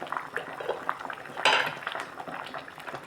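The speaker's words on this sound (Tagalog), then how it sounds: "Lalagay ko na itong gulay." Radish pieces dropped into a cooking pot of tuna sinigang, a few clattering knocks against the pot with one louder splash-like clatter in the middle over a faint simmering background.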